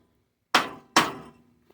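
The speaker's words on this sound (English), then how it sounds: "Might just need a couple good wallops to pop it loose" Two sharp, heavy hammer wallops strike a stuck bolt on a Rolabar rack, each a close metallic thunk that rings briefly before fading, spaced under half a second apart in otherwise quiet surroundings.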